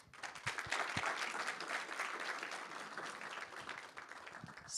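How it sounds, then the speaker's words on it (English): Sustained applause fills the room from an audience at a hackathon final, with dense overlapping clapping that holds steady throughout at a moderate, slightly distant level. "I would like to ask you one more round of applause"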